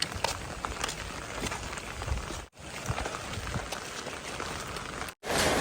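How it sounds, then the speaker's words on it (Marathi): Light rain falling outdoors, a steady close patter with brief interruptions and no talk over it. "पाऊस येतोय थोडासा"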